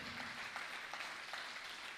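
An audience applauding RSVP volunteers at a recognition ceremony, a brief, steady patter of clapping from a crowd heard at moderate distance.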